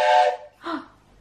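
A person imitates a toy train whistle with two short, breathy whistled toots, the first bright and strong and the second softer and lower, heard close up in a quiet room.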